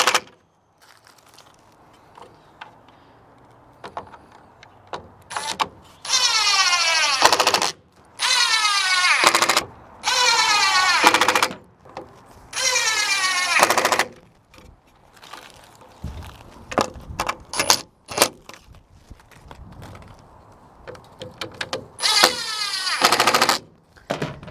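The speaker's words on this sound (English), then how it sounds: "Go ahead and use the impact, and you'll be able to start tightening these guys up" An impact driver drives T25 screws into a Lund bed extender on a GMC Sierra or Chevy Silverado truck, firing in loud, rapid hammering bursts of a second or two, separated by short pauses and quieter handling noises.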